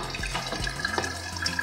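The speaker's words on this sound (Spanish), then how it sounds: "Pero créanme que está cayendo el agua." Water drips and trickles inside a Krups EC3140 programmable drip coffee maker, a soft continuous patter with small splashy drops, close by and alone without talk.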